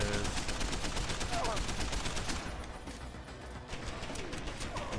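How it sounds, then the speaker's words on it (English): Automated turret gunfire in Deus Ex: Human Revolution rattles in rapid bursts, then thins to a softer stretch before resuming, with scattered game effects around it. "Now the turret's hitting her."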